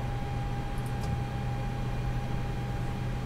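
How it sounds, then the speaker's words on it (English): Transformers and rectifiers in the electronics bay of an Airbus A320 flight simulator drone with a constant steady hum and faint hiss, unchanging throughout. "That noise actually is transformers and rectifiers down below and E&E"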